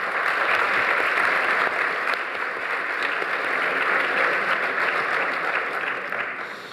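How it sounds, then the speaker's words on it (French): An audience at a debate applauds warmly in a dense, steady wash of clapping that fills the room and fades slightly at the end. "ce serait pas mal qu'on l'applaudisse pour la remercier d'entrée de jeu"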